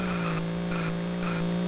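A race car in the Atari ST game Turbo Cup spins out, its steady, loud engine drone joined by repeated tire squeals that pulse roughly every half second, with no one speaking.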